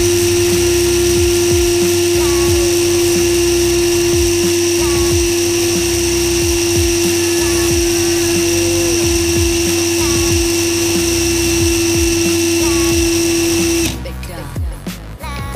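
A Stanley FatMax cordless drill runs steadily at speed setting 2 with a loud, constant high-pitched motor whine and whirring gear noise for about fourteen seconds, then cuts off abruptly, leaving faint handling noise.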